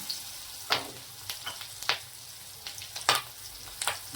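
Green chilies, some chopped and some slit, drop into hot oil while cooking raw papaya sambharo, giving a steady sizzle broken by several sharp crackling bursts and stirring, close and fairly quiet with no talk.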